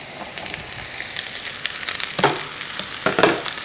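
Finely chopped broad beans (avarakkai) frying with onions in a pan, with a steady sizzle and several scraping stirs of a spatula growing louder toward the end.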